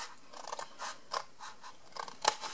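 Scissors make a straight cut through a large bag, sounding as a string of crisp snips and crunchy paper-like slices with short pauses between, close and fairly quiet.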